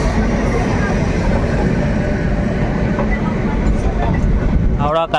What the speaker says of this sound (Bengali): আর ওই দিক থেকে একটা ট্রেন ঢুকছে।